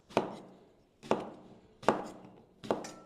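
Four sharp knife chops strike a cutting board while cutting fruit, at a steady, unhurried pace, each a crisp thunk with a short decay, close and fairly quiet.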